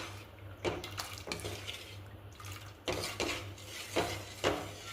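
A thickening mixture is stirred in a pot on a low flame, with repeated scraping strokes of a spoon against the pot at an uneven rhythm, close and moderately loud over a low steady hum.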